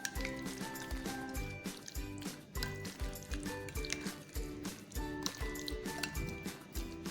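Yogurt, ground coriander and ginger-garlic paste mixed together in a bowl, giving wet squishing and slapping sounds in a steady, repeated rhythm, close and fairly quiet.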